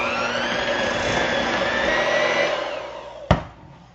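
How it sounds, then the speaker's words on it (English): Electric hand mixer whirring steadily through homemade loaf cake batter, a loud continuous motor drone that cuts off near the end with a brief clack. "I'm going to use my hand mixer today."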